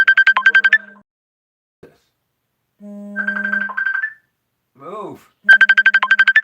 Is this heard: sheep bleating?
no